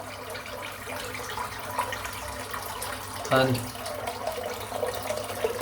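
A tap runs in a steady hiss while a Gold Dollar 100 Stallion razor is rinsed, with a brief splash partway through and a single spoken word.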